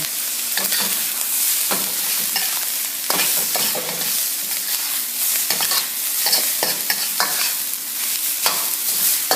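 Cooked fried rice seasoned with soy sauce is stirred and scraped around a hot pan, with steady sizzling under repeated spatula strokes and scrapes, close and fairly loud, no talking.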